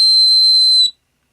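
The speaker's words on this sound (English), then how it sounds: "Not a bad whistle." A whistle made from a homemade flattened soda can, blown hard to give a loud, steady high-pitched tone that holds for nearly a second and stops abruptly into silence.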